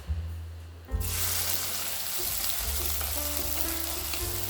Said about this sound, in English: Heat mustard oil and fry some potatoes. Fry potato in high heat,